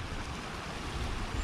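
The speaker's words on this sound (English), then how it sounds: "the stream actually has water in it" Continuous rushing water from a countryside stream carrying flow, a broad steady wash with low rumbling, heard up close during a ride with some wind noise on the microphone.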